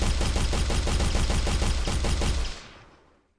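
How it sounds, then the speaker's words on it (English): Rapid automatic gunfire shoots physics objects in an Unreal Engine 5 demo, a loud dense burst of evenly spaced shots that ends with a trailing fade. "So let's just shoot them all."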